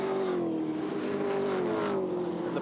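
A V8 touring race car at Pukekohe racetrack powers through a fast section, its engine a loud, steady high-pitched roar across the whole moment, with the pitch holding nearly level as it carries speed.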